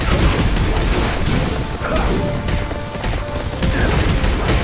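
Catapult launching and stones smashing down in the video game Berserk, a dense, continuous barrage of booms and crashes with mechanical clatter, loud throughout.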